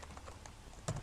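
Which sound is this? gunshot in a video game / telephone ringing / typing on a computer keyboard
typing on a computer keyboard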